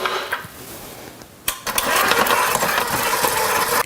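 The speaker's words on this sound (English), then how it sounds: "I'm going to drop them into my mixer bowl with the flat beater attached, and I'm going to beat the butter all by itself" A stand mixer with a flat beater attached beats plain butter on its own. The motor kicks in partway through and settles into a steady, close-up mechanical whir with a faint rhythmic rattle.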